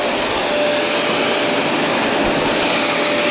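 Fantom Wildcat vacuum cleaner motor running steadily, a loud continuous high-pitched whine and rush of air with a faint tonal hum, close and unbroken throughout.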